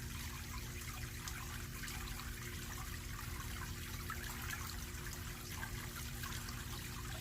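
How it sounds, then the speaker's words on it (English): Air bubbles rise through aquarium water from a SunSun JUP-23 UV clarifier, a steady soft trickling and fizzing with a low pump hum underneath, continuous and fairly quiet, with no voices. "And there's the air bubbles."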